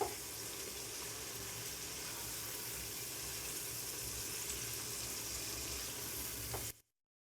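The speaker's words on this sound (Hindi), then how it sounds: "अब हमने जो अंडे बॉईल किए थे इनको डालेंगे। इनको भी हम थोड़ा सा भून लेंगे।" Boiled eggs frying in biryani masala in a pan, a steady close sizzle that holds evenly for about seven seconds and then cuts off abruptly.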